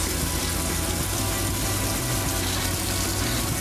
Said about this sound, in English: Have the water running. Let it run for 10 seconds.